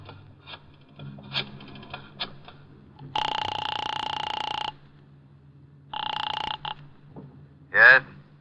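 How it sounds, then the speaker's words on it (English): Telephone ringing on the line after dialing in an old-time radio drama, starting with faint dial clicks, then two long buzzing rings, with a short voice at the end. "I dialed the Kelsey residence"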